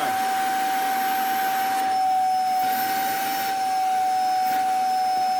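A vacuum cleaner running with a blocked hose and restricted airflow, giving a steady, loud, high-pitched whine with a constant tone and a few slight shifts in pitch, close by with no talk.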